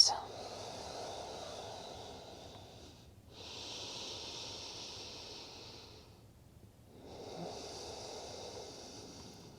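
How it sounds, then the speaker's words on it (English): A slow, steady exhale during a gentle evening yoga breathing cue, soft airy breath sounds in long drawn-out waves separated by brief pauses, close and quiet. "and breathe out"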